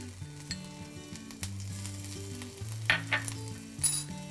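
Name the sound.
chopped ginger sizzling in ghee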